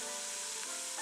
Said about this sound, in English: In goes a pound and a half of pork. Listen to that gorgeous sizzle.